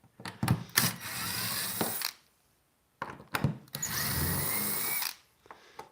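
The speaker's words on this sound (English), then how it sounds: "So I'm going to try to take these screws out over here first." Power drill backing screws out of a boat's kick plate, two sustained whirring runs of about a second each, preceded by short trigger bursts, close and loud with no talking.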